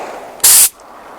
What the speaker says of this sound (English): I have a tendency to move faster with a spray gun than I do with an aerosol.